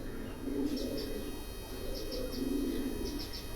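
Pigeons kept on a rooftop coo softly in low, repeated rolling phrases, with a few faint chirps above them against a steady background hum.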